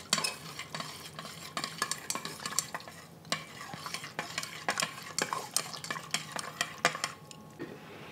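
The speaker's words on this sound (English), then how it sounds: "just as the sauce starts to simmer, add in your cornstarch and stir it in" A spoon stirs cornstarch into simmering teriyaki sauce in a pan, with a soft bubbling and frying hiss beneath a string of quick scrapes and clinks against the pan, no talking.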